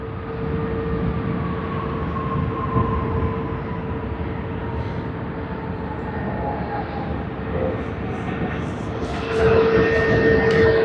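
A JAL Boeing 777-300ER jet at Sydney Airport gives a continuous engine rumble with a slowly falling whine, steady and moderately loud, swelling slightly louder near the end.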